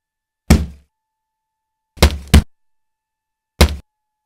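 Punchy boxing glove hits used as sound effects, four dull, heavy thuds in total: a single blow, then a quick double, then one more after a pause, each close and loud against silence.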